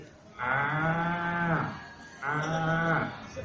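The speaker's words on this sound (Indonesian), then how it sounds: "Suara sapi itu kayaknya pantas ini." A cow moos twice, each low drawn-out call lasting over a second and separated by a short pause, loud and close with no talk.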